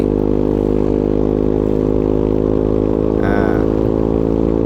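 A loud, close Honda ADV 150 motorcycle with an aftermarket racing exhaust drones steadily at high revs, with a brief rising rev partway through and a quick spoken word.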